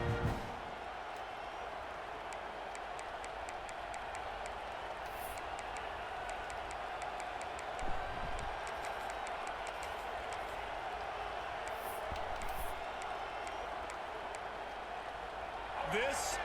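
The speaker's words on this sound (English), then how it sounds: "this crowd is feeling themselves after that last drive" A stadium crowd in the EA Sports College Football 26 video game roars as a steady, dense wall of cheering that holds for the whole stretch, with crisp clicks and thuds scattered over it.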